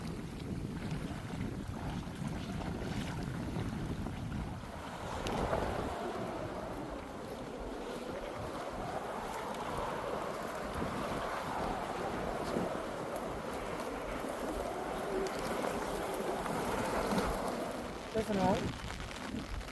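Strong wind blowing outdoors at a fish pond as a storm and rain come in, a continuous roaring buffet on the microphone with rumbling gusts, while people talk over it.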